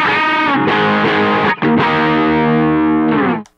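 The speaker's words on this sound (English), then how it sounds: "This is a half step unison bend using an open string." A distorted electric guitar plays half step unison bends against an open string, the sustained notes bending and wavering, then a short break before a longer held bend that fades out at the end.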